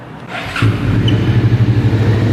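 A 2016 Suzuki SV650 motorcycle fitted with an aftermarket Termignoni exhaust catches and settles into a loud, close, steady idle with an even throbbing pulse, heard alone.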